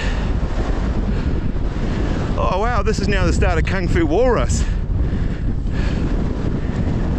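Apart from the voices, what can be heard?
wind blowing on a hilltop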